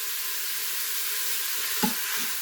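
Sausage browns in an Instant Pot with a steady, close frying sizzle, broken near the end by a soft thump and stir.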